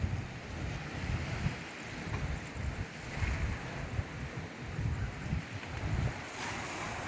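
Sea waves roll in at Kanyakumari at night, a steady rushing surf that swells and recedes in loose cycles under constant wind noise, with no voices.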